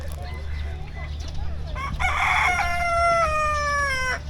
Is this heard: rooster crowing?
yes